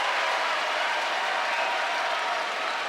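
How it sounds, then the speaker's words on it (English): A packed college basketball arena crowd at Duke gives a loud, continuous ovation as a player checks into the game, a thick unbroken roar of clapping throughout. "What an applause for just checking into the game"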